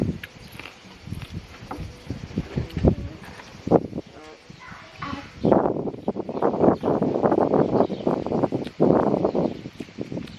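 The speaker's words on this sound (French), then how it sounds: "j'espère que vous allez nous entendre à cause du vent." Gusty wind buffets the microphone outdoors by a swimming pool being filled, rough, uneven bursts growing stronger midway, with faint rustling and movement underneath.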